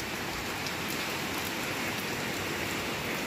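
Steady rain falls in a constant, even hiss that fills the whole moment without pause.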